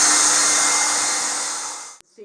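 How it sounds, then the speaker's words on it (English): A blow dryer runs loudly and continuously while drying paint on a smoosh painting, its steady airy roar holding for about two seconds before cutting off abruptly. "take the blow dryer"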